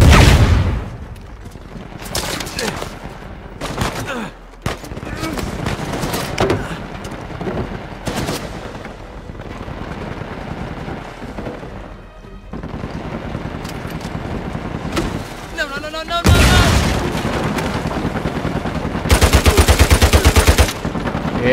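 Rapid gunfire and grenade blasts from mercenaries in the PS4 game Uncharted 4, with loud machine-gun bursts throughout and a heavy explosive stretch near the end.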